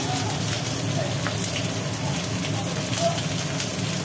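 Onions drop into hot oil with black cumin seeds for a thin fish curry, a loud, steady crackling sizzle that hisses like rain close up, running under a voice talking.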